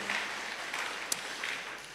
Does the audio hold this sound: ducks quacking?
no